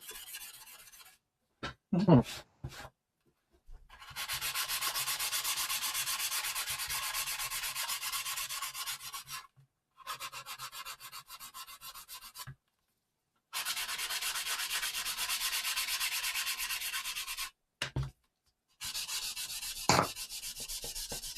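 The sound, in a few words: hand sanding with sanding paper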